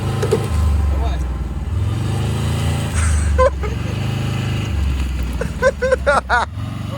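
A LuAZ car creeping forward with a steady low engine drone and rumble, close by, as people talk and call out over it.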